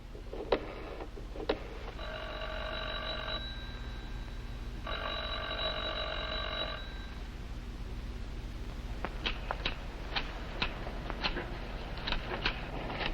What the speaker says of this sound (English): The phone's been ringing night and day at the Graham bungalow.